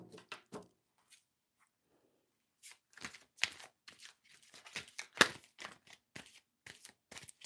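Tarot cards being shuffled by hand, a short riffle near the start followed after a pause by a longer run of dense, crisp card flicks and snaps, close and fairly quiet, with no talking.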